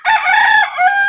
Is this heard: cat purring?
no